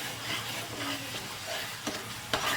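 A spoon stirs a thickening jackfruit kadubu mixture in a pan, giving a soft, continuous scraping and faint sizzle with a few sharper scrapes near the end, no voices.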